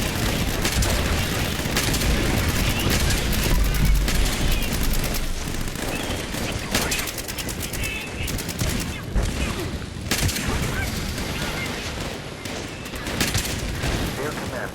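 Dense, continuous bursts of Tesla cannon fire in Fallout 76 crackle and boom in rapid succession, a loud sci-fi barrage with a voice speaking beneath it.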